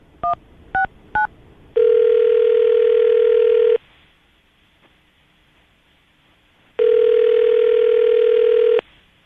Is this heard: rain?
no